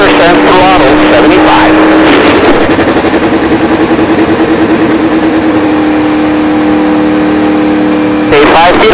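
An Indy Lights race car engine runs at part throttle on the Las Vegas Motor Speedway, giving a loud, sustained, buzzing drone close to the mic, easing into a steady pulsing tone and swelling again near the end.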